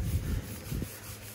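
Cleaner called Shine Juice is rubbed by hand onto the oxidized paint of a 1977 Chevy square-body truck, a soft close scrubbing swish with two short strokes, quiet and alone.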